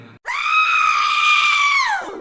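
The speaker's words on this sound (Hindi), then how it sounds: "एक रात अचानक हवेली से तेज चीखों की आवाजें आने लगीं।" A loud, sustained scream rings out from a haunted mansion in a horror tale, one long piercing cry lasting about two seconds, close and alone with no talking.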